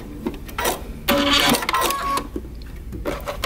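Sewing machine backstitching fabric at a 5/8 seam allowance while making a tee shirt or vest, short loud bursts of rapid mechanical stitching separated by brief pauses.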